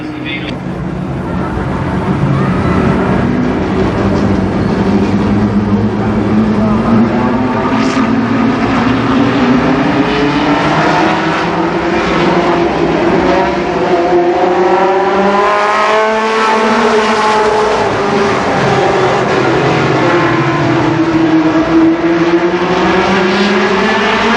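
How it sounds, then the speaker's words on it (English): Late model race cars in a 1991 heat race at Columbus Motor Speedway roar loudly and continuously, engine pitch rising and falling as the pack laps the oval, with a voice talking over the noise. "10 laps for the first late model heat race"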